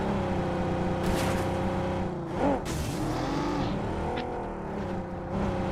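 A vehicle's engine drones and revs in the mobile game BGMI, a steady motor hum that rises and dips as it accelerates and shifts, heard close and loud with no talk.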